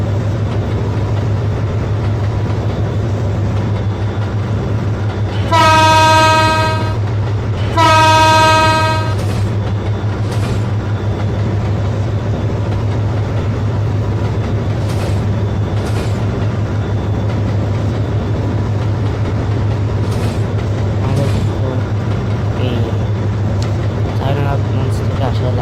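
The Barendra Express from Rajshahi to Chilahati rumbles steadily along at about 50 km/h, with a low constant drone and rail clatter, broken near the start by two loud, drawn-out blasts of the horn.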